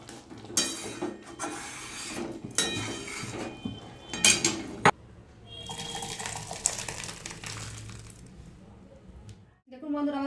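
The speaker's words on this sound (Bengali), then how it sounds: "ঘি আর গরম মশলা দিলাম, একটু নাড়িয়ে নেব।" Chana dal with ghee and garam masala is stirred in a pot, producing close metallic clanks and scrapes of a ladle against the vessel, irregular and sometimes sharp, mixed with a bubbling simmer and some voice.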